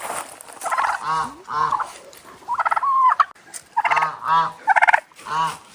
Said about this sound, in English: Are you hiding from the turkeys?